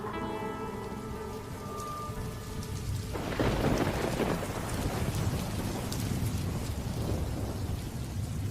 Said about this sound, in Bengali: বাইরের বৃষ্টি তখনও থামেনি।